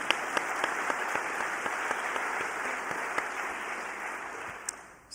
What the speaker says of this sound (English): You got to clap,